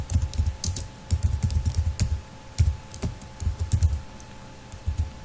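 Java code is typed on a computer keyboard in a steady run of close, crisp key clacks. The rhythm is uneven, with brief pauses between bursts of keystrokes and no voice over them.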